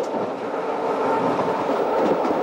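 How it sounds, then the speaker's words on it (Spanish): A train's wheels clattering over the separated joints of old jointed rails, a steady loud rumble with a fast rhythmic clickety-clack running throughout, no voices. "El paso de las ruedas por esas separaciones daba al tren ese traqueteo tan suyo."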